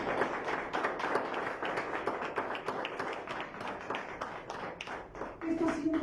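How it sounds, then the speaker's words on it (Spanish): A church congregation at an evening service applauds the Lord, a steady, fairly distant patter of many hands clapping with voices calling out beneath it. "¿Cuántos le dan un aplauso al Señor esta noche?"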